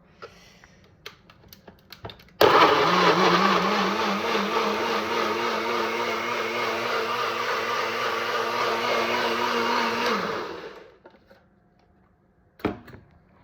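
A loud kitchen blender whirs continuously for about eight seconds as it purées tomatoes for a tomato dip, then spins down and stops, with a few faint knocks before and after.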